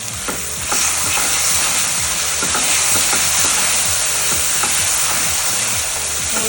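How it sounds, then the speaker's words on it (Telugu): Ingredients for temple-style lemon rice, with fresh coriander, sizzle in a pan while a spoon stirs and scrapes in repeated strokes. The frying hiss stays loud and steady for several seconds, with no talking. "టూ 3 సెకండ్స్ ఇది ఫ్రై చేసుకోండి"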